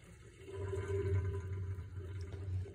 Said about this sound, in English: Time to drain the water.